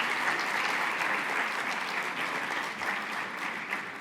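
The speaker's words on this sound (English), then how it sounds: "applause." Audience applause at a conference event in Dubai, a steady wash of many hands clapping at moderate volume, continuing evenly throughout without voices.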